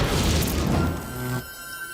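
Firecrackers set in place of candles burst on a cartoon birthday cake, a loud dense crackling blast that fills the first second and a half, then cuts off abruptly to a quieter hum.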